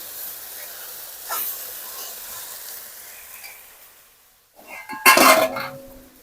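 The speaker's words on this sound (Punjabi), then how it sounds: "ਇਧਰ ਆਪਣੀਆਂ ਭਿੰਡੀਆਂ ਵੀ ਬਸ ਭੁੱਜ ਗਈਆਂ ਨੇ ਚੰਗੀ ਤਰ੍ਹਾਂ ਆਪਾਂ ਲੂਣ ਮਿਰਚ ਪਾ ਦਿੰਨੇ ਹੁਣ ਇਹਦੇ ਵਿੱਚ" Okra frying in a pan as salt and chili are added, a soft steady sizzle that fades, then a louder burst of hissing and stirring near the end.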